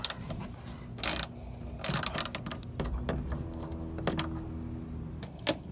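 A ratchet clicks in short bursts while bumper bolts are backed out near a car's headlight, sharp close ratcheting strokes separated by pauses against a faint background hum.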